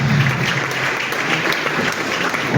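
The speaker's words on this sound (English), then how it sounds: "Put your hands together, clap it down" An audience at a national statistics report launch in Liberia claps loudly and continuously, a dense, even burst of applause filling the whole moment without talk.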